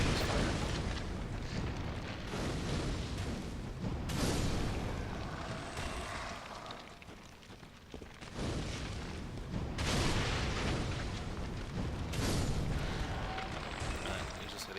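Fire spell projectiles burst in repeated booming explosions in the Dark Souls 3 video game, several loud rumbling blasts arriving every few seconds with a dense, roaring decay between them.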